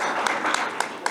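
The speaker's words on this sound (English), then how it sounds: "Give yourselves a round of applause." Guests at a birthday event clapping in a dense burst of applause, loud and close, with a few sharper individual claps standing out against the continuous patter.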